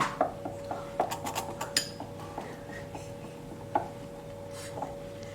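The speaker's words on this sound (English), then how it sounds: "Combine the chocolate and the cream together, just mixing it up until all the chocolate is melted." Chocolate and cream being stirred together in a bowl for churros, with soft scraping and a few clinks of a utensil against the bowl, faint and close, with no talking.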